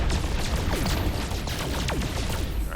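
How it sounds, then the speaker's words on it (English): Weapon fire streams out in No Man's Sky, blasting resource containers in a dense barrage of bursts, whooshes and crashing blasts, loud and continuous with no voices. "So let's open fire and see how many we can blow up"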